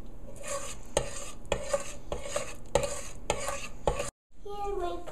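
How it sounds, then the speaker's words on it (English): Pumpkin pie play dough being stirred and cooked in a pot, a steady scraping swish with rhythmic strokes about once a second and a light sizzle underneath, close and alone, with a brief silent break near the end. "You have to keep stirring and cooking till all of the lumps disappear."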